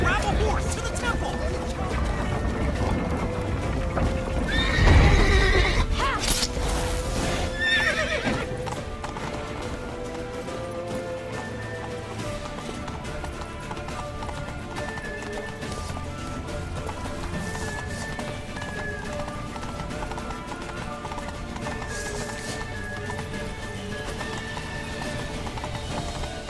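Hooves clip-clop steadily as a horse gallops in The Witcher 3: Wild Hunt, with a whinny rising early on, heard under game music and urgent shouted voices.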